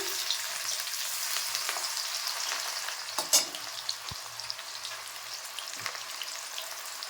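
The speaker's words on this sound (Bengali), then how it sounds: "আর আমি পেঁয়াজটা ছেড়ে দিচ্ছি" Onions frying in a pan for chicken chowmein hiss in a steady, close sizzle, with a few sharp spatula clinks and scrapes breaking through.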